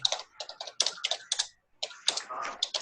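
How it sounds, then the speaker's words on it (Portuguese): Someone in an online class types rapidly on a computer keyboard, producing dense clusters of sharp clicks in uneven bursts with a brief pause, close and clear, heard over an open microphone. "Tem alguém que tá digitando também que nem um doido aí"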